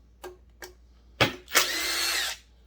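A power tool loosening bolts on the case of a Husqvarna 372 XP chainsaw: two short clicks, a quick burst, then a close whirring run of about a second before stopping.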